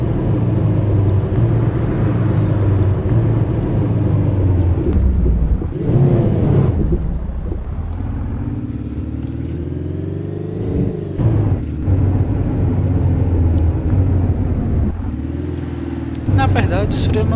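Renault Clio 4 driving on a highway, its engine and road noise droning from inside the cabin, rising and shifting as it accelerates, with someone talking over it.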